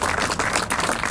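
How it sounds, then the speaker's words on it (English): An audience at an annual meeting claps in a brief round of applause, a dense, moderately loud patter of many hands. "I'd like to ask y'all to give her a little round of"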